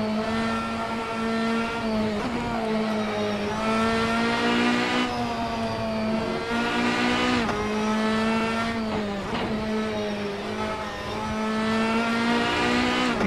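Race car engine lapping the Nordschleife in the Assetto Corsa video game, repeatedly revving up and shifting with sharp pitch drops between gears, loud and steady across the run with no voices.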